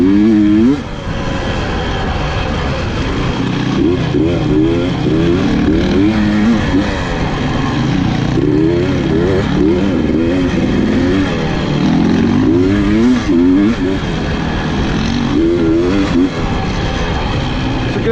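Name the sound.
250 gas dirt bike riding on a trail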